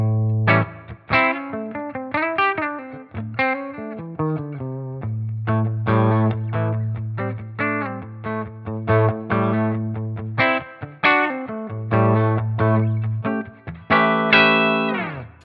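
An electric guitar through a very low-gain Warm Centavo overdrive pedal, Klon-style, plays chords and short melodic runs, a warm, slightly gritty tone ringing out, with no talking.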